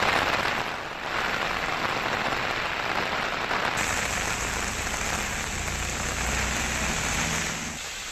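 Heavy rain pours down steadily in Telangana, a dense, loud hiss of drops hitting the ground that holds constant for about eight seconds with no voices.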